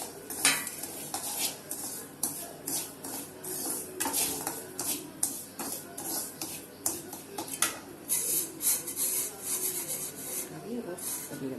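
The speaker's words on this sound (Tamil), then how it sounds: "வெந்தயம் வறுத்துக்கலாம்." Fenugreek seeds being dry-roasted in a pan for rava upma, stirred with a metal spoon that rasps and clinks against the pan in quick, uneven strokes over a faint sizzle; close and fairly quiet.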